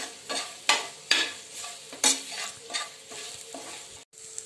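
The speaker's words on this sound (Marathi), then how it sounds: "मीठ टाकूया चवीनुसार आणि आपलं छान मिक्स मिरची मिक्स करून घेऊया" Green chillies with salt being stirred and sautéed in a pan, a soft sizzle broken by several sharp spoon-scraping strokes at an uneven rhythm, close and fairly quiet.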